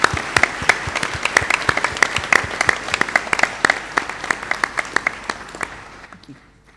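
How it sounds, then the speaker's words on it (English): Audience at a Monash Malaysia university graduation ceremony applauds the graduates, a steady burst of many hands clapping that thins out and fades over the last second. "I now ask the members of the audience to applaud your accomplishments."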